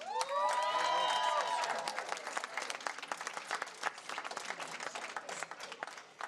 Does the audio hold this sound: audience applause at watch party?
yes